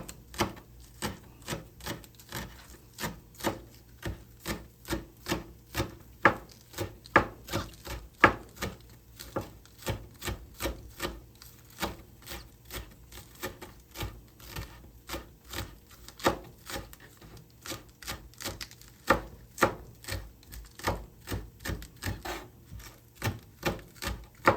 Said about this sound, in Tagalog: hiwain natin tong ating spring onion ng maninipis